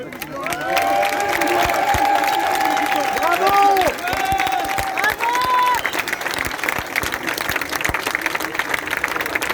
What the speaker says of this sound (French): il faut applaudir les blouses blanches